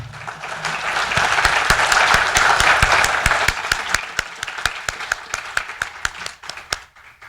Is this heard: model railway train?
no